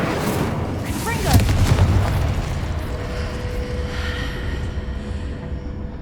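A Confringo spell explosion goes off in the game Hogwarts Legacy: a dull, rumbling boom lands early and then fades into a steady wash of game ambience.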